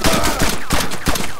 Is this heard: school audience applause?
no